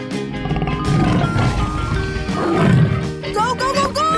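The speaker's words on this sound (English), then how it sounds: "Tiger." A tiger roars in a 3D animal slide video game, a rough, loud growl over game music, with a voice talking over it.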